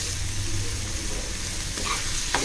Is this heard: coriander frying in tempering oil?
yes